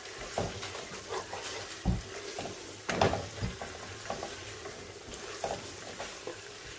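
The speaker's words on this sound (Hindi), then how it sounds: "अभी इसको अच्छे से भूनना है" Soya chunks frying in a pan, a soft continuous sizzle broken by irregular scraping and stirring knocks, close but fairly quiet.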